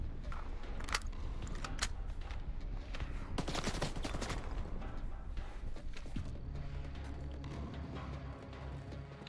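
Gunfire in S.T.A.L.K.E.R. 2: Heart of Chornobyl, with sharp shots cracking at irregular intervals and a dense burst of rapid fire in the middle, close and loud, with no talk.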